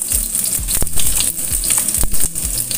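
Shallots frying in a pan, a loud, close, steady sizzle with a few sharp clicks and stirring knocks along the way, and no voices.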